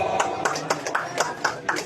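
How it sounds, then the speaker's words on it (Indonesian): An audience at a Qur'an recitation gathering claps for a second-place winner with a handful of sharp, separate claps spread across a couple of seconds. They sound fairly close, and the gaps between them are uneven. "Tepuk tangan."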